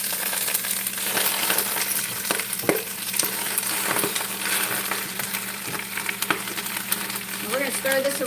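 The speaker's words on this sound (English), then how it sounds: "And we're gonna stir this around and cook it down." Greens sizzle and cook down in a pan while being stirred, a steady frying hiss broken by scraping and a few sharp clinks of the utensil, with a voice talking nearby.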